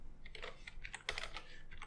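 Typing on a computer keyboard while coding a Zelda-style game in Game Maker, a close, quiet burst of irregular clicking keystrokes with no talk.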